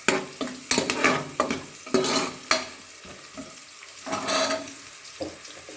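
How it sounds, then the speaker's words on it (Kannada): A spatula scrapes and tosses ingredients in a hot pan for a Kannada spinach saaru, giving a series of sharp close scrapes and clinks over a frying sizzle, loud bursts separated by quieter gaps. "ಹಸಿ ಸ್ಮೆಲ್ ಹೋಗೋವರೆಗೂ ಚೆನ್ನಾಗಿ ಫ್ರೈ ಮಾಡ್ಕೊಳ್ಳಿ."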